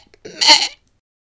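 A single sheep bleat in a Lego retelling of the shepherd and his flock: one short, wavering bleat about half a second long, close and clear, with silence before and after.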